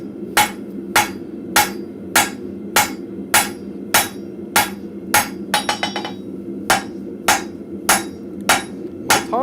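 A blacksmith's hammer draws a taper on hot steel at the anvil, struck in steady, ringing blows about twice a second, with a quick flurry of lighter taps midway. A low forge roar runs continuously underneath.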